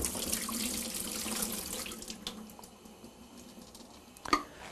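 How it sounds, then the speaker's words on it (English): Water from a film developing tank is poured out into a sink, a close, splashy gush that thins to trickles and drips, ending with a sharp knock of the tank against the basin. "I'm going to pour out the water in the sink."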